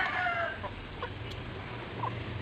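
A backyard chicken hen gives a few soft, short clucks over a low background hum, close but quiet.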